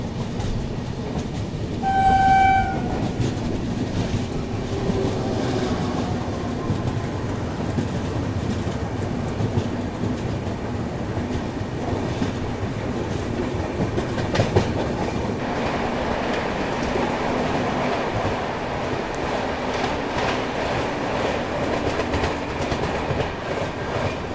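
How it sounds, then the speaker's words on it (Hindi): Intercity passenger train passing at a station on the Howrah–Puri route, a long continuous rumble and clatter of wheels on rails with a brief horn blast early on, steady and fairly loud throughout. "ये सामने से कोई तो इंटरसिटी ट्रेन लग रही है मेरे को।"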